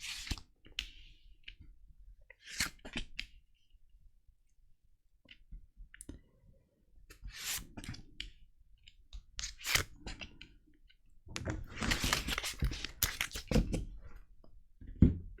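Tarot cards are shuffled and drawn in quiet, scattered snaps and flicks, with a denser flurry of shuffling toward the end and no talking.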